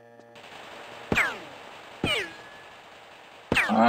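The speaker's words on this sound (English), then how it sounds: "Oh fuck, I've been shot at again." Three separate gunshots in a PlayStation video game, each a sharp loud crack trailing into a short whistling ricochet, spaced about a second apart over a quiet hum.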